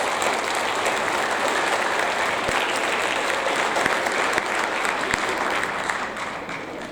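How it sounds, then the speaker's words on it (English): Applause at a sixth-grade school awards ceremony fills the room, dense and sustained clapping from a crowd that tapers off slightly near the end. "one more round of applause for all those groups and those good awards"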